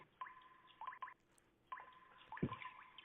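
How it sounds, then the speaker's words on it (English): Water droplets fall in a short, irregular series of plinks and drips, each a distinct close splash, with a heavier plop near the end. The sounds are fairly quiet and isolated, like a sound effect. "Me peeing, little droplets."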